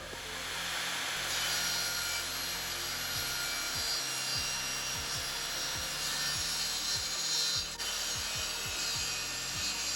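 A table saw set for a 13 mm cut runs through a timber offcut while building a circle jig, a steady loud whine with rough rasping wood noise throughout and a few low thumps, no voices.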